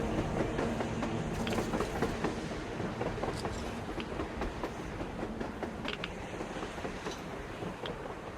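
In the video game Metro Exodus, a train travels along surface tracks, its heavy rumble and clickety-clack of wheels loud and continuous, easing slightly toward the end, with no voices over it.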